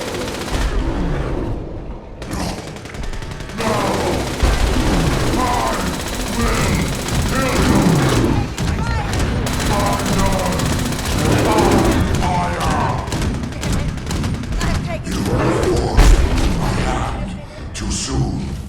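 Heavy weapon fire in Fallout 76, loud sustained bursts of automatic gunfire with thuds and mechanical clatter, running almost continuously at close range, with a voice talking over it at times.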